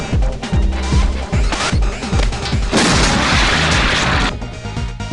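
Streets of Rage 3 video game audio blares loudly: pounding electronic music with booming, repeated beats and crashing bursts, harsh and dense, with a noisy wash of clattering effects partway through.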